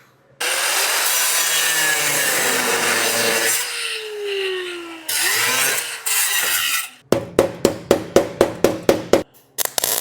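Rusted steel floor pan of a 1941 Mercury being cut, with long harsh grinding and sawing passes, a pause, then a rapid series of sharp rhythmic strokes close by.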